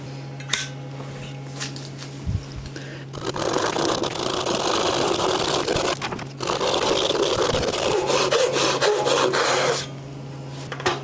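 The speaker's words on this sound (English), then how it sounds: "I think I'll do it with a saw." A hand saw rasps through a wood block being cut out for bowl carving, a steady close scraping that runs for several seconds, pauses briefly, then resumes before stopping.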